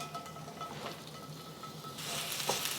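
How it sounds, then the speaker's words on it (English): Onions sizzle in canola oil in a hot, just-smoking pan, a quiet steady hiss that swells brighter near the end, with no voices. "I'm going to add my onions."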